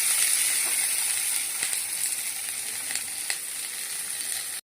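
Onions and curry leaves hit hot oil with popped mustard seeds for rava upma, producing a loud, continuous close-up sizzle with a few faint stirring scrapes before it cuts off abruptly.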